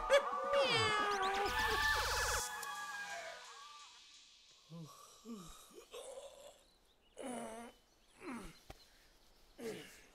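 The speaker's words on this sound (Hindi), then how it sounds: "ये तो बिल्ली" A cat meows several times in a comedy film scene, with a series of plaintive, wavering meows of varying length spaced a second or two apart after some louder noise at the start.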